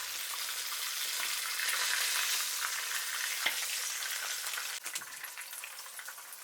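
Fish pieces fry in hot oil over high heat for Senegalese thieboudienne, a steady close sizzle and crackle with a couple of faint knocks.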